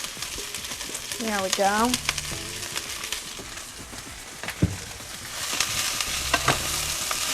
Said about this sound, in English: grab my vegetables, my onions, my peppers, my garlic, and just quick saute them up